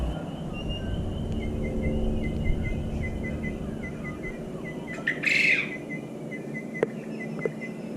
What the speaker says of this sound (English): There are some native birds chirping away and a plane flying over to get that comparison.